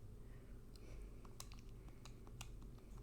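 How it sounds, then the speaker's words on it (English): Quick, light plastic button clicks from typing on a calculator, landing in short irregular bursts at close range over a steady low background hum, with no talk. "I was talking while typing stuff on my calculator"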